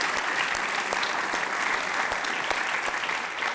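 Sustained studio audience applause on a Serbian TV talk show, a dense crowd of clapping hands with scattered sharper claps standing out, steady and fairly loud throughout.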